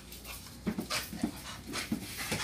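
A large, muscular dog pants close by in quick, breathy bursts, with faint whimpers mixed in, fairly quiet with no talking.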